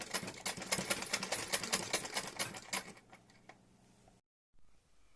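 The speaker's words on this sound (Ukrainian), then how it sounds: "Таким чином шиємо до кінця нашого полотна." Sewing machine stitching fabric for a colourful rug, a rapid mechanical chatter for about three seconds that slows and fades, then a short pause and a faint resumption.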